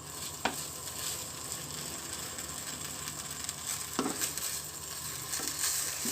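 Chicken cooks in a sauce in a pan with a steady, close sizzle, while a few sharp scrapes and knocks mark the stirring.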